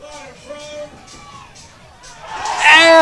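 A crowd at an ultimate frisbee game in Indianapolis swells into loud cheering at the end, following a stretch of commentary over quieter crowd murmur.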